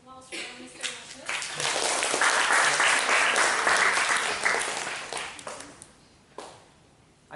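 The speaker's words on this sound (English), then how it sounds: "let's give a big applause for Mr." Applause from an audience at a weekly academic discussion session swells after a few scattered claps, holds steady for several seconds, then thins out to a few final claps.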